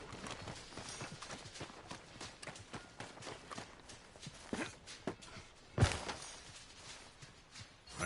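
Horse hooves clip-clop in Red Dead Redemption 2 with a faint, steady rhythm of strikes and one heavier thud near the end.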